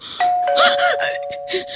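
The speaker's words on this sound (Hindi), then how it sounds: "बार बार कोई मेरी डोरबेल बजा रहा है।" An electronic doorbell chimes, a clear two-tone ding-dong ringing close by, its tone sustained over faint background noise.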